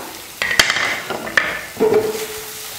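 Metal spatula scraping and clinking against a pan as brinjal and egg are stirred, a few sharp clanks over a soft background sizzle.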